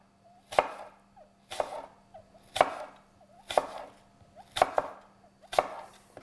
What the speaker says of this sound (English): so for the salad, I'm just going to chop up an apple